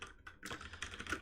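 Quiet, rapid clatter of keys on a computer keyboard during programming work, a steady run of close taps with no talking.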